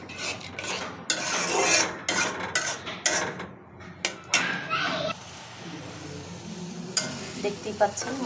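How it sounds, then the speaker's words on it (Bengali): Spices fry and get stirred in a pan for cabbage, with loud irregular scraping and clattering against the metal over a continuous sizzle, then a calmer steady hiss with occasional clinks. A person talks over part of it. "দেখতেই পাচ্ছেন মশলাটা ভাজা ভাজা হয়ে গেছে"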